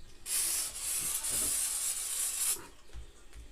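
Silicone spray hisses steadily onto a fishing reel and line guide for about two seconds during basic rod and reel maintenance, a close, loud continuous burst that stops abruptly, followed by faint handling noises.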